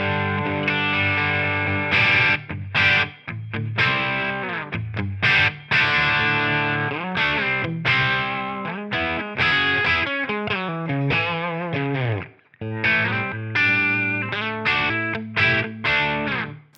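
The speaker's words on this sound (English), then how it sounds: "let's see what this amp model can do with that same sort of room reverb and microphones" A heavily distorted electric guitar plays through an AmpliTube 5 amp model with room reverb and miked sound, loud and continuous, with chords and single-note runs and no talk.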